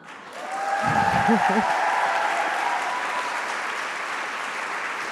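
A live podcast audience gives a test round of applause, a dense wash of clapping that rises quickly and holds steady, with a brief voice and cheer near the start.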